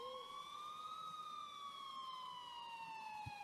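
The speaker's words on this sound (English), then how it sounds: "until I finally heard sirens in the distance." Police siren wailing from a distance, its pitch rising and falling in a smooth sweep over steady low background noise, part of an animated horror story soundtrack.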